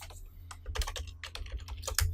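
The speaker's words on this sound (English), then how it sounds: "We can start typing in that." Typing on a computer keyboard into a Notepad window on a Windows PC, a run of quick, irregular key clicks with short pauses, close and fairly quiet, no voices.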